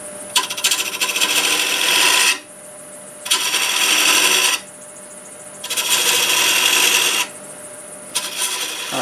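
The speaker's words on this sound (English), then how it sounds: "we're using my 1/2-inch bowl gouge" A half-inch bowl gouge cuts wood on a lathe in three loud, close passes of a few seconds each, a rough scraping hiss between quieter spinning pauses.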